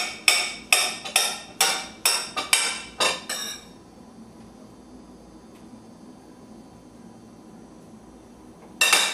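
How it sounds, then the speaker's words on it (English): A knife slices a banana against a cutting board: about eight quick, sharp, close chops in a steady rhythm, then near silence, with one last tap at the very end. "I'm going to take some banana. Slice it up."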